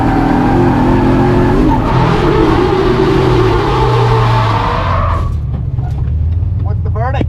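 A BMW E36 sliding backwards at a big angle, engine roaring loud and close with tire skid and squeal throughout, the engine note dropping away near the end as the slide finishes.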